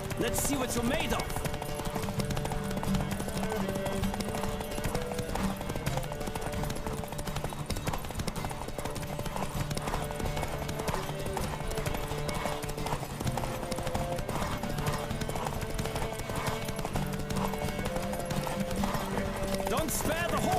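Hooves pound in a fast, continuous gallop during a horse race in The Witcher 3, driving on under game music and other ambient sound, with a whinny now and then and voices calling out.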